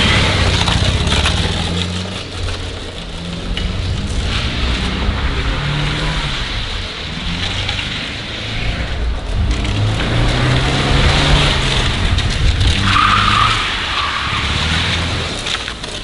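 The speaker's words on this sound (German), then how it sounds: "mit 4 fast intakten Reifen ein bisschen das Fahrverhalten dieses Autos demonstrieren" A car driven hard on four nearly intact tires, giving a steady loud roar of engine and road noise with drawn-out tire skidding throughout, and no talk.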